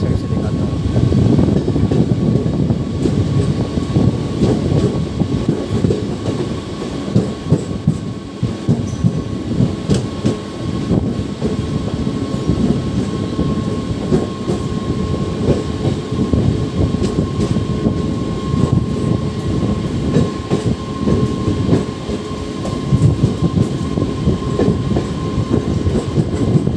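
Passenger train 05134 running from Jaunpur to Ghazipur in India, heard from on board as a steady, loud rumble of wheels and carriages with faint clickety-clack and a constant hum, no talk.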